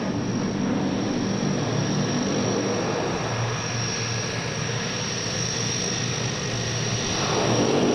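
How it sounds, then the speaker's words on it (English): F/A-18C Hornet jet flying at a Naval Air Station airshow, a steady, broad engine roar that holds throughout and swells slightly toward the end, heard from a distance with no voices. "Mongo is now setting up to demonstrate the Hornet's extremely tight turn radius."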